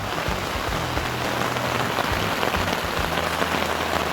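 Steady, dense rain drums on a tent during a backpacking trip in Glacier National Park, a loud, unbroken patter with no talking.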